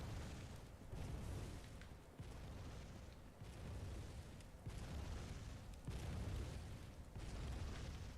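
Cannon fire in the video game Bloodborne, a run of heavy booming blasts every second or so, loud and close, each with a deep rumbling tail and no voices.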